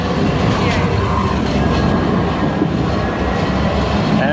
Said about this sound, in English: It's a train here, nobody can see it.